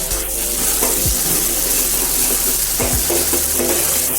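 Cuttlefish pieces sizzle in hot olive oil for a seafood paella. The frying is a steady, close crackle, broken by a couple of soft stirring knocks.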